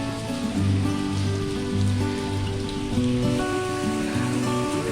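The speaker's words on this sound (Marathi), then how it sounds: "वादळी पाऊस पडतो आहे" Heavy stormy rain pours steadily onto surfaces in Pashane village, a loud, continuous downpour with a low droning hum running beneath it.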